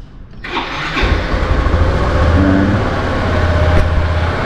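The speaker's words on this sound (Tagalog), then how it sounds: "Painitin lang natin yung ating motor." A motorcycle engine turns over and catches near 1 s, then settles into a steady, loud warm-up idle close by at dawn, with a small throttle blip partway through.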